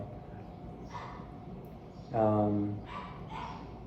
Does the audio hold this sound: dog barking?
yes